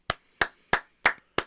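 Podcast hosts clapping five times, evenly spaced sharp claps, close and crisp, with silence between them.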